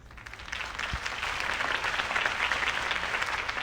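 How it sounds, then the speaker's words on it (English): A crowd applauds after a campaign speech in the Batman Telltale video game, steady dense clapping that swells quickly and holds at a moderate level. "If only Mr. Wayne, my campaign's largest backer, could have heard that applause"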